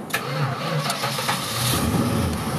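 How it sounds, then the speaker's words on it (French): A 1966 Dodge Charger with a 383 V8 is being started. The engine cranks and briefly catches in a close, loud, rough burst of mid-pitched rumbling. "on va tenter de la démarrer sans... Voilà. Non, raté. Un petit point d'accélérateur."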